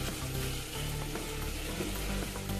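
Jaggery syrup with ghee bubbles in a pan in a close, steady frying sizzle with soft crackles and faint scraping, continuous and fairly loud, no voices.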